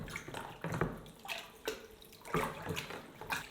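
Close, gentle splashing and dripping water as a cloth is dunked and moved around in a basin, with no talking.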